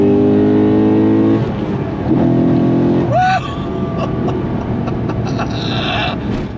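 A modified C6 Corvette Z06 accelerates hard in second gear, its loud engine note rising in pitch close by, followed by a quick shift and continued roaring pull.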